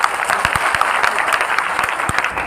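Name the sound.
audience clapping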